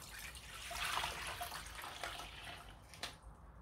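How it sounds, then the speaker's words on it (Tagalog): Six cups of water are poured from a jug into a cooking pot for red jelly, a faint, steady splashing trickle that swells briefly before tapering off, with no talk. "Lagay na natin ang ating tubig."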